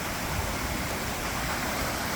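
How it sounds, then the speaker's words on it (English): Floodwater from Hurricane Helene rushes through wooded ground after the storm, a steady, fairly quiet broadband roar with no breaks and no voices. "You listen over the sound of the rushing water."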